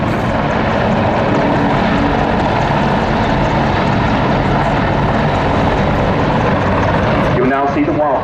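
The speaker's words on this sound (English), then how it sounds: "It is a small, agile helicopter with a top speed of 178 miles per hour and a range of 250 nautical miles." Army Air Corps Wildcat helicopter flying at the Duxford summer air show, a loud, continuous rotor and turbine roar filling the whole stretch, with a public-address commentator speaking over it.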